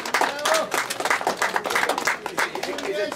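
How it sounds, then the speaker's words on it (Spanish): Applause at a patronal fiesta honoring Agonías de Marco Cruz de Mayo, a steady patter of many hands clapping close by, mixed with overlapping voices throughout. "Voto de aplauso."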